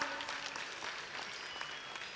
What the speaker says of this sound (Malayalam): നല്ലൊരു കയ്യടിയോടുകൂടി അദ്ദേഹത്തെ നമുക്ക് വരവേൽക്കാം